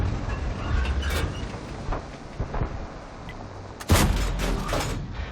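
Tank cannon fire from a KV-5 in World of Tanks, several booming shots with one loud blast near the end, set against continuous engine rumble.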